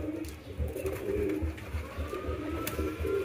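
A pigeon coos in low, rounded repeated calls while being fed by hand, the coos recurring in a steady rhythm against light background noise.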